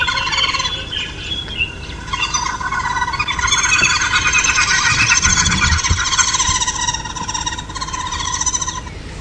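Noisy calls of a group-living bird played back at sunrise on a safari drive, a dense, continuous chatter of overlapping squawks and chirps filling the whole stretch at steady loudness with no talking.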